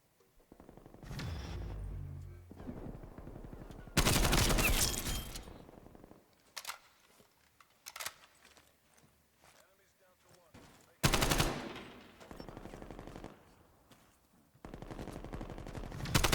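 Bursts of automatic gunfire during a Call of Duty Cold War search-and-destroy gunfight, loud sustained volleys broken by shorter single shots and quieter gaps, with a voice talking briefly in between.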